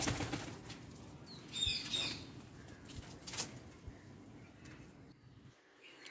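A pigeon flaps its wings in a brief flurry of soft, fluttering beats, fairly faint and close, set against a low background hum.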